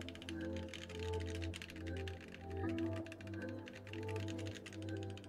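A mechanical keyboard with an acrylic bottom and lubed switches is typed on in a quick, continuous clatter of clacky keystrokes, close up, over a steady low hum.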